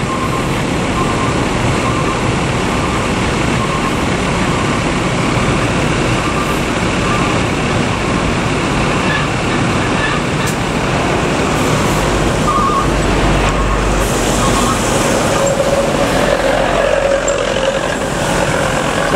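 An NPM bus arriving as the seventh in a bus convoy at a meeting point, with a steady loud engine and road rumble from heavy vehicles and surrounding traffic noise throughout.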